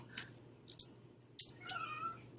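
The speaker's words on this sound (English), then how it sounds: "Woeful meow." A cat lets out a few short, plaintive meows at close range in a quiet indoor room, with soft clicks and rustles between the calls.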